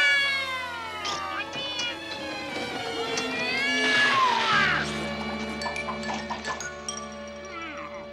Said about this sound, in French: ce chat finira par attraper des Schtroumpfs